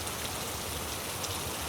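Steady rain falls in a dense, even hiss of drops on surfaces, continuous and fairly close, with no voices.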